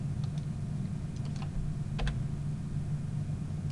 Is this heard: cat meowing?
no